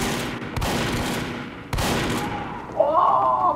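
Rapid bursts of gunfire from the online shooter Team Fortress 2 play loud and close, with heavy shots near the start and the midpoint over dense battle noise, then a sustained tonal effect rising at the end.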